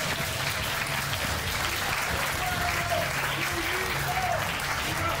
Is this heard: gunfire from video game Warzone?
no